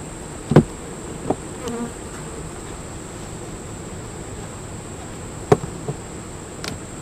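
Honeybees buzz in a steady, faint hum around an opened beehive during a hive inspection, broken by a few sharp knocks and clicks from handling the frames and boxes; nobody speaks.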